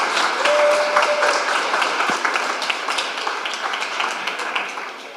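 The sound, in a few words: audience applause at a program launch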